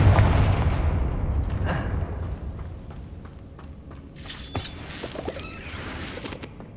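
A Confringo fire spell from the video game Hogwarts Legacy bursts with a heavy booming explosion at the start that decays into rumbling, followed by smaller crackling blasts and impacts.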